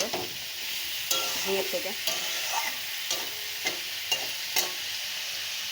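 Vegetables, potato and drumstick pieces, sizzle in a pan with spices while being stirred, with repeated scraping strokes over a steady frying hiss, close and moderately loud, and a brief spoken phrase.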